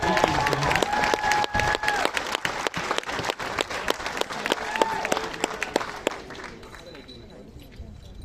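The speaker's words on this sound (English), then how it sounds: "Another big round of applause for New South Wales." Crowd applause for the New South Wales team at an under-12 football nationals closing ceremony in Melbourne, dense clapping with some cheering and voices mixed in, tapering off near the end.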